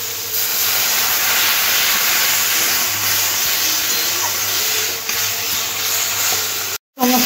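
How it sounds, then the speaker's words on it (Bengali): Water hits a hot pan of mourala fish curry with ridge gourd and green chillies, giving a loud, steady steamy hiss and sizzle that runs unbroken for several seconds before cutting off abruptly. "অল্প একটু জল দিয়ে দেব।"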